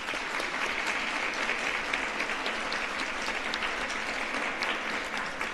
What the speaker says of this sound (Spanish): que este aplauso también sea para todas las personas galardonadas esta tarde